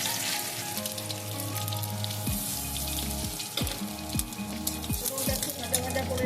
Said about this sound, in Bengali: ফোড়নটা একটু ভাজা ভাজা করে নেব।